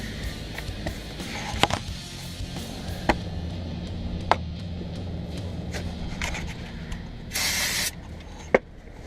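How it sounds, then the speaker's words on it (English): A single short burst of cleaner sprayed onto a rag while working on a 93-02 Camaro or Trans Am rear differential cover, a sharp hiss lasting about half a second amid scattered clicks and knocks from the work. "So spray your rag."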